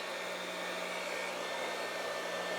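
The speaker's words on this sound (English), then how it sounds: "My poor mixer, you can hear it already." An electric stand mixer strains through thick apple bread batter, giving a steady, loud motor whine with a buzzing hum that holds unchanged throughout.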